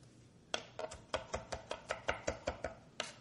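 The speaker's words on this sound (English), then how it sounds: "And then I can use this technique for chopping things fine." A knife finely chopping parsley on a board, about a dozen crisp, evenly spaced chops in a quick steady rhythm, close and clear with no talking.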